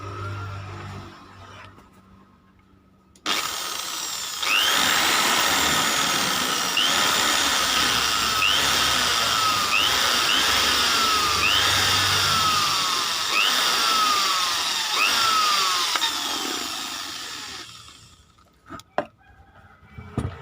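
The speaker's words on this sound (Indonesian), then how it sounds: "Saya menggunakan sebuah bor ya, agar lubangnya lebih rapi ya." A power drill bores a hole for a hose fitting, giving a loud, continuous whirring whine that holds steady for about fourteen seconds before cutting off, with no voices.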